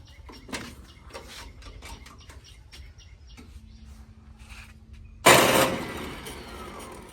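A Sonalika DI 750 tractor is started: after quiet ticking and faint background sounds, a sudden loud burst of cranking and catching engine noise comes in near the end and settles into a steady running rumble.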